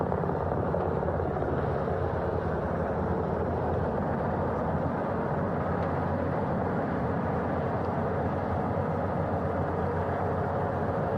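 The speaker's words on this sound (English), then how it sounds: "The first helicopter coming in." A helicopter comes in to land on a ship's flight deck, a sustained rumbling rotor roar that stays loud and even for the whole stretch with no talk.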